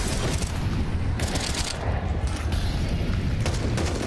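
A flashbang grenade in Counter-Strike bursts amid a dense stretch of game noise, with sharp bangs and gunfire crackling in quick bursts across a loud, busy mix.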